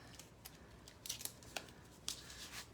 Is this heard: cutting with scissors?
yes